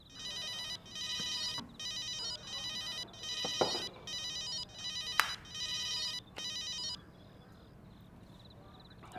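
A phone rings as a call is being placed, producing a fairly quiet electronic ringtone in about seven repeated bursts with brief gaps. It cuts off near the end, with faint background noise underneath.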